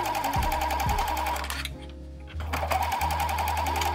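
A sewing machine runs steadily, stitching a bodice and its facing together along the neckline, right sides together. It pauses briefly near the middle, then starts up again, close and alone.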